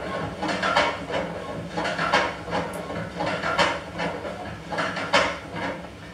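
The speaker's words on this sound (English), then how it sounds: "you're going to hear this horrible clattering sound as that low pressure steam valve hits against" A stationary steam engine clatters and hisses in a steady, uneven rhythm of rattling bursts as the steam shuts off and the low-pressure valve hits the slides, moderately loud and close.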